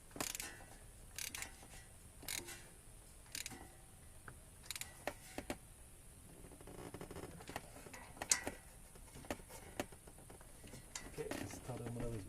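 Bolts are tightened on the starter motor of a Honda Rancher ES350 ATV: quiet, close ratcheting clicks and small metallic taps come in short irregular bursts against a faint background hiss.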